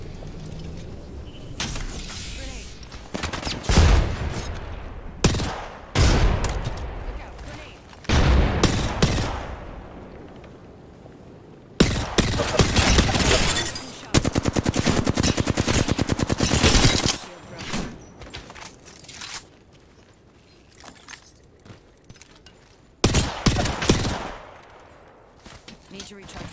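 Bursts of Apex Legends gunfire, rapid automatic volleys and single shots, erupt loud and near in several clusters, with grenade-like blasts and scattered voices between the firefights.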